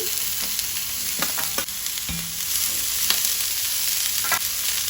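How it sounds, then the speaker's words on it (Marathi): Beans added to a hot pan of browned onions and green chillies, a constant bright sizzle with several sharp clatters of stirring, no talking. "आता आमी घालूया तातूंत भाजी।"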